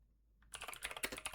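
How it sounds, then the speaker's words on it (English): Rapid typing on a computer keyboard, a quick irregular run of close, crisp key clicks starting after a short quiet moment, faint and alone. "Don't mind my typing, y'all."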